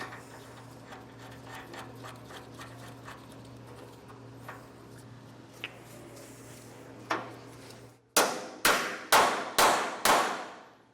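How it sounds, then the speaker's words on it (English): Five loud metallic hammer blows in a steady rhythm drive a bolt through a leaf spring eye on a utility trailer, close and ringing, after quieter scraping and clinking of parts being positioned. "So we'll get this hammered in place."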